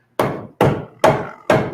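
A hammer strikes house framing lumber four times in a steady rhythm, each blow loud, sharp and close, with brief ringing decay between hits.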